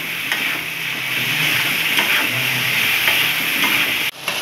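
Onion, garlic, coriander, mint, tomato and dried chillies fry together in a pan for dosa chutney, giving a loud, continuous close sizzle with faint stirring scrapes and no talking.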